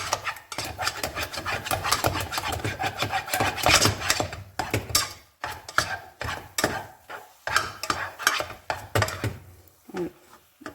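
Choux dough being stirred and dried in a saucepan for pommes dauphine, a steady rasping, scraping rub of a spoon against the pan with repeated knocks on the rim, close and continuous with brief pauses.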